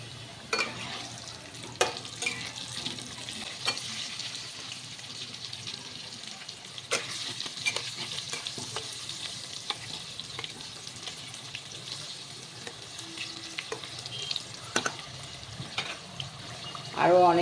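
Potatoes with a little turmeric fry in a pan, giving a steady soft sizzle broken by scattered scrapes and clicks of stirring throughout.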